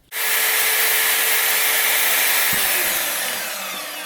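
A bandsaw runs with a loud, steady broadband whine close by, holding for a few seconds before the pitch drops slightly and the sound begins to tail off.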